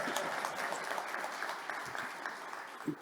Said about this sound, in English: we need to give this lady a round of applause